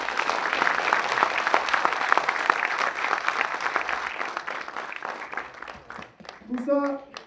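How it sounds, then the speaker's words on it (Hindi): Loud audience clapping at an award function, a dense sustained burst that thins toward the end, where a voice briefly begins speaking. "एक बार माई होम इंडिया के लिए जोर से ताली बजाइए"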